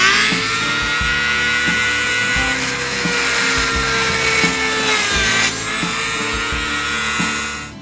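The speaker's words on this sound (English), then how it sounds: "So we're going to finish cutting these tabs off on this piece" Power tool cutting tabs off a tile piece in an RV garage: a high whining grind with short stuttering bursts, loud and close, easing off near the end.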